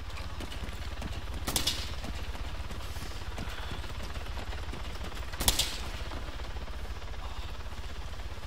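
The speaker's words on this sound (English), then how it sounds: "Who the fuck is shooting?" Sniper shootout in the video game Arma 3: two sharp distant rifle cracks a few seconds apart ring out over a steady low rumble of ambient background noise.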